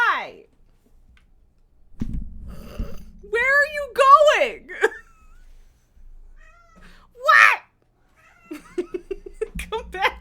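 A house cat meows several times in drawn-out, wavering cries, loud and close, alternating with a person talking to it and short stretches of quiet.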